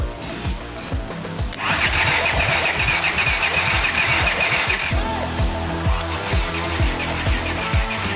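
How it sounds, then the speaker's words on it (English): An old motorcycle engine is kicked over and catches, sputtering into a rough, uneven idle up close, with a raspy mechanical chatter that stays steady for several seconds. "Ready to start this motorcycle?"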